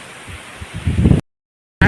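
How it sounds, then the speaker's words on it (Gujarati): Strong wind buffets the microphone at a farm, with a roaring gust that swells, cuts out abruptly, then returns loud near the end. "આપણે આવી ગયા છે વાડીએ તો જોરદાર પવન આવે છે"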